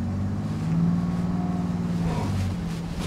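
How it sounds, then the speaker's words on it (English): A 2023 Toyota Sequoia crawls over off-road moguls with a steady, loud low engine drone and rumble that shifts pitch slightly as it climbs, close up and continuous with no talking. "So we're going over these moguls right now."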